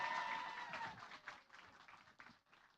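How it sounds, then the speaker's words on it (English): An audience applauds at an event celebrating ten years of the YSEALI program, a sustained wash of clapping that slowly fades over a few seconds. "Give a big round of applause to Putra Aditya."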